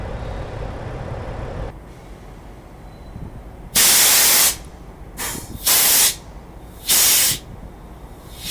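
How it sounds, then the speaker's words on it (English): Compressed air blasts out of an air-ride trailer's brake system at a truck stop: a low idling rumble, then four loud, sharp hisses in separate bursts, the second brief and stuttering, the others lasting about a second each. "Now you can hear the air going out."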